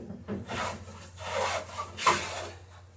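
Hand plane shaving wood over nailed planking on a sailing dory, three rhythmic rasping strokes, close and moderately loud with no talk.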